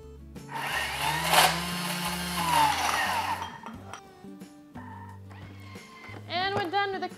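A Thermomix runs on turbo while making cream cheese glaze for cinnamon rolls: a loud, rough whirring blast for about three seconds, then quieter clinks, hums and a brief tonal whine as it settles.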